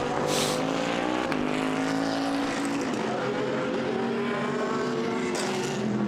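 A BMW GT race car at Monza during endurance-series free practice, its engine roaring at high revs with rising and shifting pitch as it passes, loud and continuous with a trackside wash behind it.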